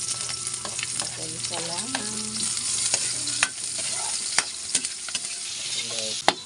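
Garlic and ginger sauté in a pan with a steady sizzle and sharp clinks of a utensil stirring, while a voice speaks briefly over it.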